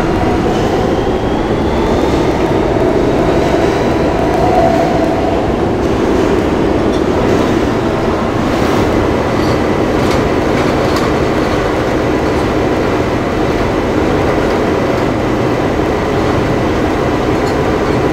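An R160B subway D train rumbles steadily along the rails near 33rd Street, a continuous loud roar with faint rattling and occasional high squeals, no voices.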